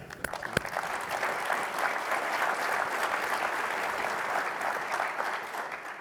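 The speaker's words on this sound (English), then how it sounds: "Round of applause for that." Audience applause at a Space Force Association gathering, a continuous, moderately distant clapping crowd sustained at an even level, with a few sharper individual claps near the start.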